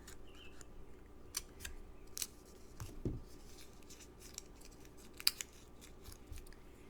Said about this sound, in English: cut in a few of the petals and give them a fold